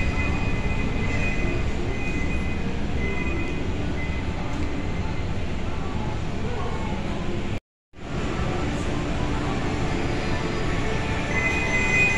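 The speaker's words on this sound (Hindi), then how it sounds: "इसके अलावा ये ट्रेन भी है ये बहुत मज़े की ट्रेन है" A kids' amusement ride train runs in an indoor play area at a mall, making steady rumbling and rolling noise with a broad background din and a brief dropout partway through.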